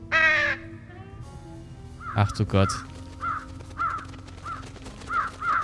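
Crows caw repeatedly in the Trüberbrook video game, a series of short, evenly spaced calls after a brief spoken exclamation, with a couple of louder thumps in between.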